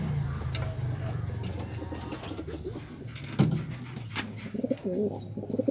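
Pigeons coo in low, soft throaty phrases close by, repeating over a steady background rustle with a few sharper knocks.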